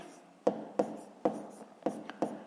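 Pen or chalk strokes tap and scratch out a math solution in short separate marks at an uneven pace, close and soft, with no talking.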